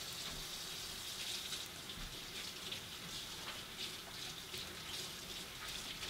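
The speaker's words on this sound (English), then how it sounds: "Let me wash my hands here." Hands washed under a running tap: a steady, soft hiss of flowing water runs throughout with faint splashing as hands move through the stream, close and quiet with no talk.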